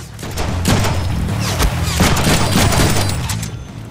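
Dense, continuous gunfire fills the scene in a Deadpool video game, with a minigun in use: loud rapid shots and thumping impacts blur together under a steady roar.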